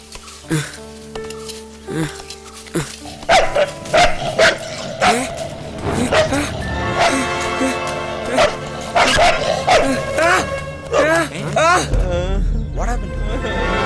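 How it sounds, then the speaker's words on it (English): A dog barks and yelps repeatedly while attacking a man in a thriller film scene, loud bursts over music, with excited voices talking throughout. "Hey, the dog has bitten him, man."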